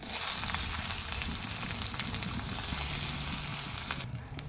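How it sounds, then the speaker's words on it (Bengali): Chopped onion fries in hot oil, a loud, continuous crackling hiss close by with no talking. "পেঁয়াজটা খুব সুন্দর করে আমি ভাজা ভাজা করে নিয়েছি"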